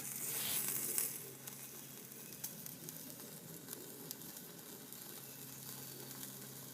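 A filet mignon steak sizzling and smoking over a low flame on a Vital stove, a faint steady crackling hiss with a few soft pops, louder at first, no talking.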